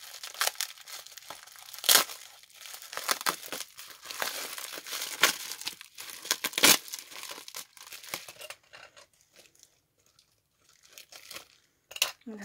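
Crinkly bubble wrap packaging being snipped with scissors and crumpled in bursts, with a few sharp louder crackles and a brief quiet stretch near the end.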